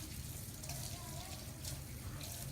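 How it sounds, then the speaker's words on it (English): Water runs steadily from a tap as hands are rinsed of soap at a sink, a soft continuous splashing hiss heard fairly close and quiet throughout. "So we're going to put our hands under the water again and rinse all that soap off."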